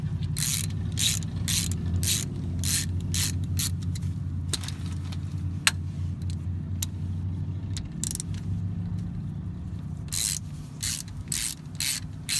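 A half-inch ratchet works loose the bolts of a vehicle's differential cover, fast clicking bursts repeating in runs with short pauses, close and clear over a low mechanical rumble.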